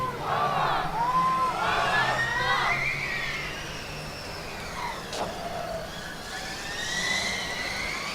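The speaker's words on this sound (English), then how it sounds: "we hear a big cheer from the audience" A big crowd cheer rises from spectators at a Formula Student autocross event, with a whooping roar over the whine of a passing race car. The cheering swells early, fades, then lifts again.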